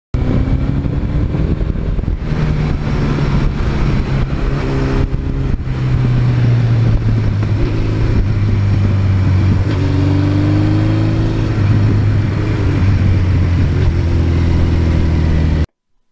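A 1982 Suzuki GS1100E motorcycle cruises along with a loud, steady engine drone, its pitch rising and falling through gear changes and throttle shifts, continuous from start to finish.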